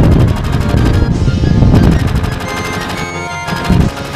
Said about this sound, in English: And you can hear Barbara's firing.